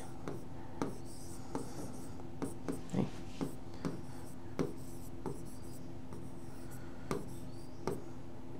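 Chalk or marker strokes on a board while working through a chemistry equation, a sparse series of quick scratchy taps and short strokes at close range, quiet and intermittent, with faint talking in the background.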